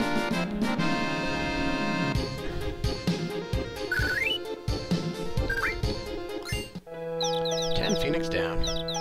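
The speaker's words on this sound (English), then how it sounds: "Am I being attacked by chickens?" Chickens in the video game Final Fantasy VII, clucking fowl calls mixed with chimes, tonal game effects and background music, busy and fairly loud, ending in a brighter musical passage.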